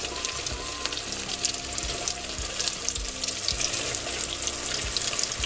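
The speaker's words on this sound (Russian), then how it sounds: "В раскаленное масло опускаем рыбку." Flour-coated fish pieces fry in hot oil, Azerbaijani style, giving a steady, close, hissing sizzle that runs unbroken throughout with a faint low hum beneath and no speech.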